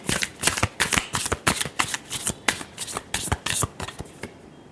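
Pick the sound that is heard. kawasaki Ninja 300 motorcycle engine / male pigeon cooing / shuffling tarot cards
shuffling tarot cards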